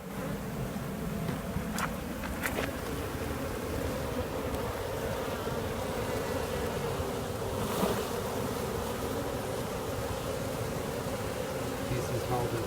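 A swarm of honey bees hums during a hive removal, with hundreds to thousands of them buzzing in a dense, steady drone that stays close and continuous throughout, joined by a few sharp brief knocks.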